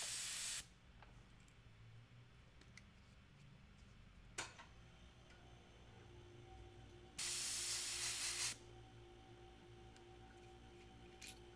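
An airbrush sprays paint in two short bursts of steady hiss, each about a second long, with a faint tick and quiet room background between them.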